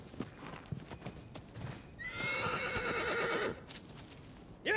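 Horse hooves clip-clopping and a loud neigh from a horse in Shadow of the Colossus on PS4, the whinny rising clearly over steady hoofbeats midway through, with a sharp sound at the end.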